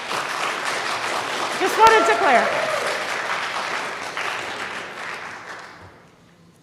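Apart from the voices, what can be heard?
audience clapping at school board meeting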